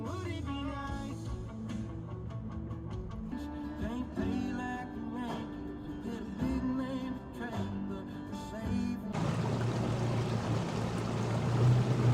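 A bass boat motor idles with a steady low drone over flowing water on Saginaw Bay, growing rougher and louder toward the end.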